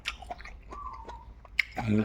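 Close, crisp crunching and chewing of blanched shrimp in short bursts, with a voice speaking briefly between bites.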